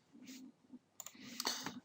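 Someone types on a computer keyboard with a few faint, quick clicks in short bursts, close and quiet, with no talking.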